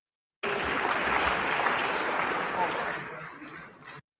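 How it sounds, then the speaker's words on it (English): Audience applause at a community debate in Harlem, a steady crowd clapping that starts abruptly, holds at a full, even level for several seconds and then thins toward the end. "Sister Beverly Terry, round of applause."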